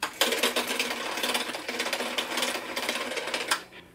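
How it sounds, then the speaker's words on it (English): A Bernina sewing machine winds thread onto its bobbin with a fast, steady mechanical whir up close, running continuously before stopping at the end. "you don't want the thread stretching as it's being wound onto the bobbin."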